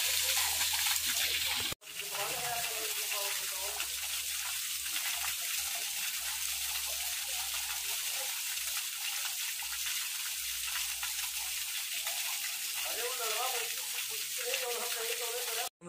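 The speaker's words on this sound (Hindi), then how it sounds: "ये नदी झरना टाइप सी हमेशा गिरते रहता है" A river waterfall pours continuously, a steady broadband rush of falling water that fills the whole scene at constant loudness, with a brief dropout near the start and faint voices mixed in underneath.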